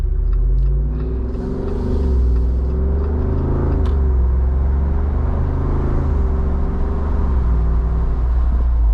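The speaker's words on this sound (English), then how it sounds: "you can really hear that V8 roar at all times around you" A deep, steady V8 engine rumble from a 2024 Jeep Wrangler Rubicon 392 Final Edition fills the whole stretch, loud and close, with a low throaty drone and slight rises in pitch.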